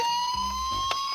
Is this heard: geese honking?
no